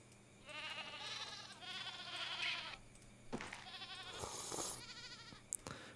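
Goats bleating in the survival video game Card Survival, several overlapping wavering cries repeating in bursts, fairly close and clear, with no talk over them.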